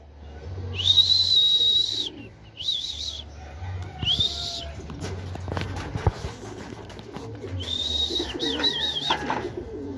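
A racing pigeon arriving at its loft during a derby race calls out in several bursts, with low rumbling in the background and occasional soft clatter between the calls.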